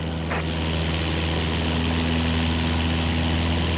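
A Cessna 172 propeller engine runs at full power in Microsoft Flight Simulator 2024, a constant loud droning hum with a steady buzzing tone throughout, no voices.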